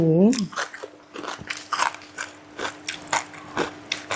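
Crisp crunching bites into crispy pork cracklings sprinkled over Ubon-style rolled rice noodle soup, a brief hum at the start followed by a dozen or so sharp, close crunches in an irregular chewing rhythm.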